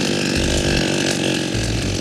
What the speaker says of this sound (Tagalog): Nagyelo ang ating chainsaw.